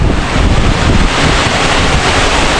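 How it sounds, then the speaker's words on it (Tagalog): Loud, steady roar of heavy typhoon rain mixed with gusting wind, a dense continuous wash of noise with no voices. "grabe ang lakas ng ulan. May kasama pang hangin"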